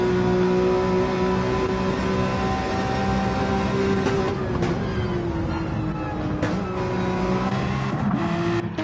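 An old BMW race car engine in a racing video game drones steadily with a loud, continuous tone, its pitch dipping and rising through gear changes, with brief sharp bursts breaking in partway through.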